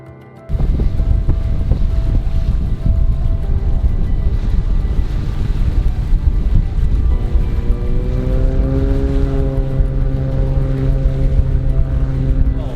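Strong wind rushes steadily across a sailboat heading upwind, a continuous loud roar with a low engine-like drone and rising tonal hum partway through, no talking.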